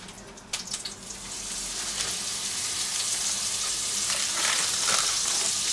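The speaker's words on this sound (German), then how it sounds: "Da hauen wir gleich die nächsten in die Pfanne." Burger patties fry in a pan with a continuous crackling sizzle. A few sharp clatters come near the start, then the sizzle holds steady and fairly close, with no speech.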